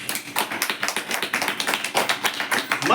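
A church congregation claps together in a quick, steady rhythm of many hands, fairly close and loud, with no voices over it.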